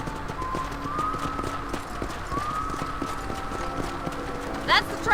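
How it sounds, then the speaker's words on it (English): Steady hoof clip-clop from a trotting horse in Red Dead Redemption runs under continuous game music and speech, with a brief bright chime near the end. "when I'm not concentrating on not crashing my horse"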